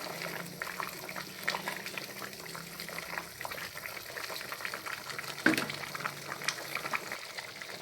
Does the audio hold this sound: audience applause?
no